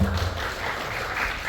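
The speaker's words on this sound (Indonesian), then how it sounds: "Tepuk tangan buat teman-teman semua." Brief audience applause for seminar participants at a BIM construction workshop, a short burst of many hands clapping, muffled and somewhat distant.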